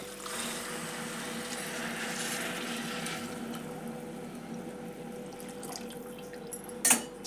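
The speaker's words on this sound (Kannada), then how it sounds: "ನಾನು ಈ ಗ್ಲಾಸಲ್ಲೇ ಆರು ಗ್ಲಾಸ್ ನೀರು ಹಾಕೊಂಡ್ರಿ ಈಗ ಈ ಒಗ್ಗರಣೆಗೆ ಸುರುವಣ್ರಿ" Water poured from a glass into a pot of tempering for cabbage pulao, giving a steady rushing splash for about three seconds that fades into a quieter hiss, with a brief clink near the end.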